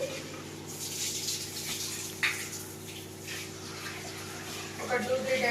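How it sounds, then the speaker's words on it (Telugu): Raw chicken for biryani being washed under running water, a steady faucet gush with splashing and handling noises throughout, close and moderately loud, with a brief louder splash partway through. "ఇప్పుడు ఫస్ట్ అయితే మనం ఈ చికెన్ని కడిగేసుకొని వచ్చేద్దాం"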